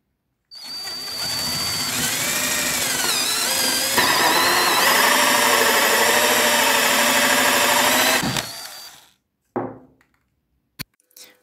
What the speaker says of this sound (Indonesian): Dan kita mulai pengeboran menggunakan hole saw.